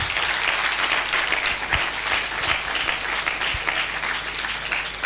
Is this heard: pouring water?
no